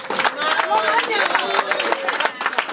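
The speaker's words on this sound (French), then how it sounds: "Applaudissez s'il vous plaît" Wedding guests at an official marriage ceremony clap and cheer, with brisk, uneven clapping mixed with crowd chatter and voices talking over it.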